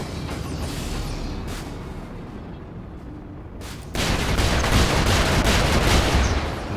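Heavy gunfire in the mech combat game Brigador, a dense rumbling barrage that drops back briefly, then surges louder and sustained for the last few seconds.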